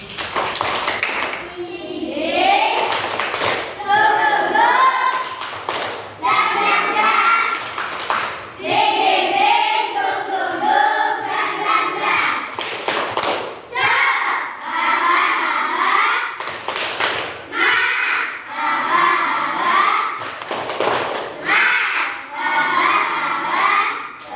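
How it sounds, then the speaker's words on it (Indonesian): A primary school class doing the Indonesian tepuk semangat spirit clap in a classroom, loud rhythmic group clapping mixed with children chanting and shouting in unison throughout. "kita tepuk semangat dulu"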